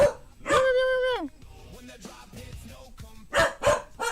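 A dog barks several times, one long whining yelp and then sharp close barks, over a quiet background with faint vocal sounds.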